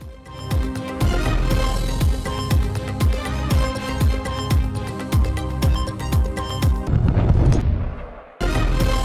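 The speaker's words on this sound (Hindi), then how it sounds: "दिन का आगाज विफाकी दारुल हुकूमत में 31 और सूबाई दारुल हुकूमतों में 21 तोपों की सलामी से हुआ।" Artillery gun salute fired for Pakistan Day, with 31 guns in the federal capital and 21 in provincial capitals: a rapid run of heavy booming blasts in close succession, loud and echoing, ending in a brief silence before another burst.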